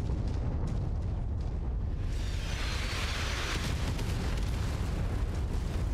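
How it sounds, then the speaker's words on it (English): Artillery shells exploding in the mech combat game Mechwarrior 5 Mercenaries, a steady dense rumble of blasts with a louder, brighter burst of detonations partway through, continuous with no talk. "I guess the artillery is gonna make short work of those trees here very soon"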